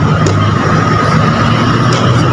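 Heavy vehicles roll past along a city road at night, a steady broadband traffic roar with faint whooshes, heard close by and with no voices.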